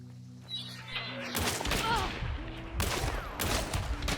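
Carbine fire in a first-person shooter video game: sharp, rapid shots in clustered bursts with short pauses, loud and close, over a busy background of game sounds.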